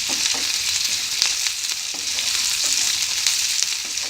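Chopped vegetables for sooji upma sizzle and crackle steadily in a hot pan, with scattered stirring scrapes over a continuous, moderately loud frying hiss.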